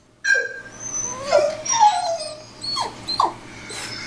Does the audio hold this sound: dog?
yes